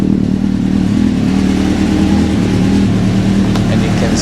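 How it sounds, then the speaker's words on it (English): A 1996 Suzuki GSX-R 750 SRAD track bike with Keihin FCR39 carbs idling after a cold start, a loud, steady, close low-pitched engine rumble with slight unevenness. "it does sit there idling eventually, so it's just a touch harder to start"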